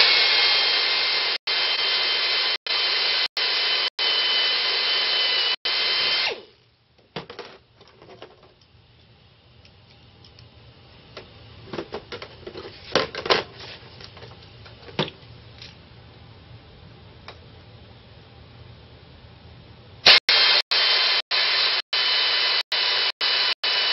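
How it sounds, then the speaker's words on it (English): An electric drill bores down through an aircraft aileron trailing edge into the work table, whining loudly and steadily in short bursts with brief gaps, then pausing for a stretch of quieter handling clatter before the drilling bursts resume. "Vance recommends that you drill down into the table"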